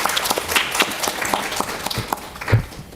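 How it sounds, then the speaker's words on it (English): Audience at a Bulgaria-Korea policy forum applauds, with scattered hand claps of moderate loudness pattering steadily for a few seconds and one sharper clap near the end. "So all the applause to Mariana."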